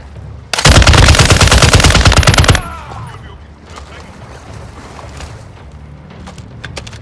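A single sustained burst of close, loud automatic gunfire lasting about two seconds in Call of Duty: Modern Warfare II, followed by quieter battlefield ambience with faint distant shots.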